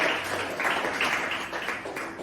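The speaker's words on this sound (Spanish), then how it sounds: "Dale un fuerte aplauso a papá, por favor, por su sacrificio, por su perdón" An audience at the For Grace conference on the Donato Barragán campus applauds for a father, a steady wash of clapping that holds for a couple of seconds at a moderate level.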